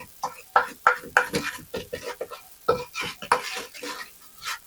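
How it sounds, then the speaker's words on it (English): Mexican vanilla is stirred into shortbread dough in a bowl, producing a close series of quick, uneven scraping and thudding strokes. "that's about a teaspoon of our Mexican vanilla. And we'll just stir that in."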